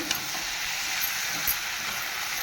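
Cardamom and cinnamon sizzle in hot oil while being stirred, a steady bright frying hiss with occasional soft scrapes and pops, close and fairly quiet.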